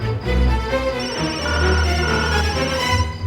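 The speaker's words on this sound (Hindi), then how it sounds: "जैसे कोई फोन की रिंग बज रही हो" A telephone rings indoors in a steady tonal pattern, heard moderately loud against a low background hum.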